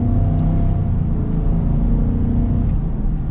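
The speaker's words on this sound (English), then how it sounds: "That V8's great. This is a fun engine." A 2025 Ford Super Duty Tremor pickup with the 7.3L Godzilla V8 accelerates, giving a deep, steady engine rumble heard up close from inside the cab with no talk.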